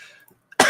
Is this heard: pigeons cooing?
no